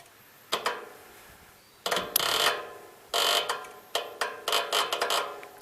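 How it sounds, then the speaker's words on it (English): The starter solenoid on a 1984 Gravely 5665 tractor, powered from a jump box, gives several short, close bursts of mechanical clicking and clattering separated by pauses, with no voices. "I would say the solenoid is junk because it clicked in once."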